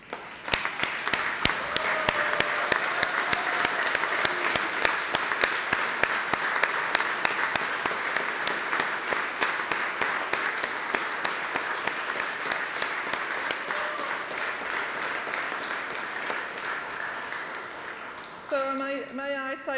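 Sustained round of applause from a large graduation ceremony crowd at the University of Manchester, dense steady clapping filling nearly twenty seconds before a brief musical flourish at the end.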